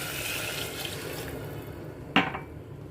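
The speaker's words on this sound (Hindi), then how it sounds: "अब हम इसमें डाल रहे हैं सारा पानी जो हमने निकाल के रखा था।" Reserved water pours into a cooking pot of tomato rice with a steady splashing rush, followed by a single sharp clink of metal near the end.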